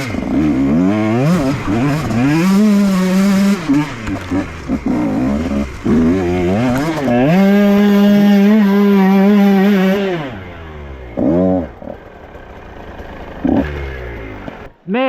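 A dirt bike engine revs hard and rises and falls in pitch while climbing a hill on a wooded trail near a creek, loud and close, with brief drops between throttle bursts.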